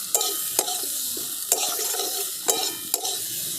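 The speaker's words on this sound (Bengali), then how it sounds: "এরপরে এই মশলার সাথে দিয়ে দিচ্ছি ভেজে রাখা আলুগুলো দিয়েও কিন্তু মশলার সঙ্গে খুব ভালো করে কষিয়ে নেব।" Fried potatoes sautéed with spice masala for aloo dum, stirred in a pan: sharp spoon scrapes and knocks about once a second over a continuous sizzle, close and clear, with no talking.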